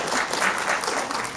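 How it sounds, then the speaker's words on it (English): Audience applause at an anime and manga studies symposium panel, a steady, dense clapping from a convention crowd filling the whole short stretch without talk. "you're applauding that, right?"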